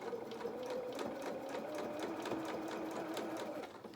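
A sewing machine stitching fabric for a fox doll's head runs in a steady, close, rapid mechanical chatter for a short burst, with no talk over it.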